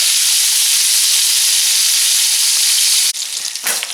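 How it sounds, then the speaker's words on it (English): Loud, continuous sizzling of pork chops frying in a hot pan, a steady hiss that briefly drops and then flares again near the end. "I'm going to continue frying this up"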